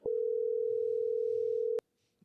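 Ringback tone on an outgoing phone call, a single steady ring of about two seconds that stops abruptly before near silence.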